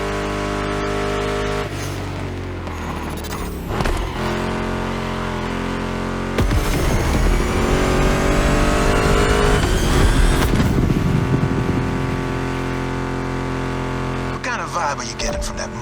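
Car engines in the video game The Crew Motorfest, muscle cars such as a Mustang GT, roaring loudly and continuously, with revs climbing and falling and a surge midway, a voice talking over them.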